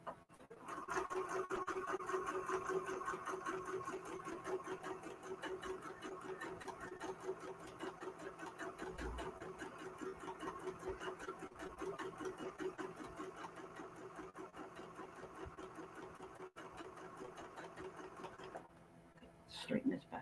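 A home sewing machine runs a short seam close by with a fast, even rattle for most of twenty seconds, while a person talks quietly over it and fabric rustles near the end.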